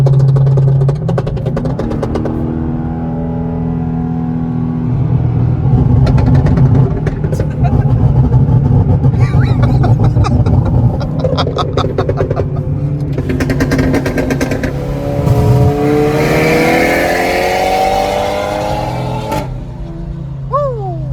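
A Mercedes CLK500 engine idles and revs repeatedly nearby, rising and falling in pitch, with people talking over the rumble.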